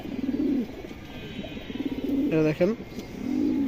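Domestic pigeons coo in low, throaty rolling calls, close by, repeating in soft bursts while someone talks over them.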